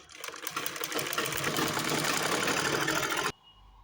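A sewing machine stitching along the edge of a pajama runs in a steady, fast, loud whir for about three seconds, then stops abruptly into near quiet.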